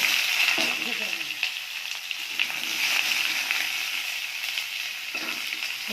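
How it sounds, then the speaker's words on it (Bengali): Potato and pointed gourd (potol) fry in a pan, giving a steady, close oily sizzle with occasional scraping and stirring clicks throughout. "এবারে আলু আর পটল দিয়ে ভেজে নেব।"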